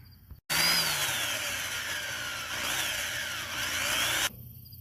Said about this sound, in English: let's drill the first hole and see what happens